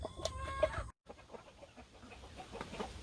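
Silkie chickens cluck softly nearby, with a few short, higher calls at the start, then scattered quiet clucks over faint background noise.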